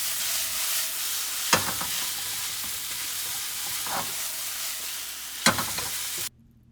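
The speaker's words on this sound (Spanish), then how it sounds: "En un sartén caliente con aceite, agrega las cebollas fileteadas y cocínalas a fuego alto." Sliced onions frying in hot oil in a pan over high heat, a soft steady sizzle with a few sharp stirring scrapes, then cutting off abruptly.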